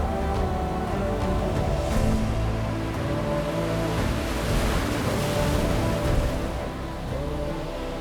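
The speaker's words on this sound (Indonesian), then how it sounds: "deburan suara ombak yang ada di pinggir penginapan kami" Steady surf washes in a continuous low roar, waves rolling and breaking on the shore beside a resort at Sorake Beach, South Nias, with no voices over it.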